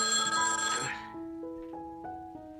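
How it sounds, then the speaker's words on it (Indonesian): A telephone rings loudly with a bright bell tone, then falls into a quieter, steady electronic ringing pattern of repeating pitched pulses. "Coleman mendapat telepon dari Duck"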